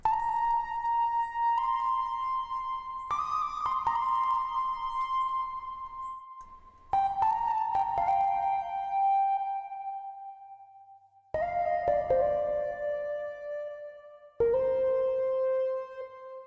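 A synth lead from an SRX Orchestra patch plays a slow counter melody, sustained bell-like notes stepping gradually downward, each held for seconds with soft attacks, alone and fairly quiet.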